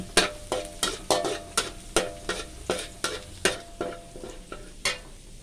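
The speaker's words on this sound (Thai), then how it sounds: "เจียวกระเทียมให้หอม" Garlic fries in hot oil while a spatula stirs it in a pan, sharp rhythmic scraping strokes about twice a second over a soft steady sizzle, fairly quiet and with no talking.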